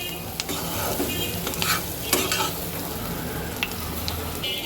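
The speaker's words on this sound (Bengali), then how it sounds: "মশলাটাকে আমি কয়েক মিনিট তেলে একটু ভেজে নিলাম" Spice paste fries in oil on low heat for a hilsa fish curry with taro and potato, giving a steady close sizzle broken by scraping stirs of a spoon against the pan, with no talking.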